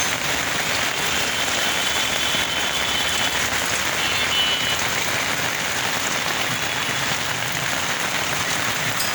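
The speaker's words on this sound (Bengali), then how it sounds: "অনেক জোরে বৃষ্টি হচ্ছে।" Heavy rain pours down in Mirpur 10, Dhaka, a dense, loud, unbroken hiss of drops striking surfaces, steady throughout with no talking.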